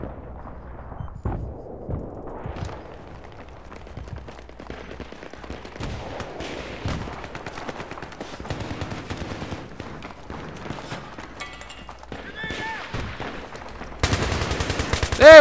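Bursts of rifle fire from a FAMAS or L85A2 in Battlefield 3 on the Karkand map crackle repeatedly amid other battle noise, with a louder burst near the end.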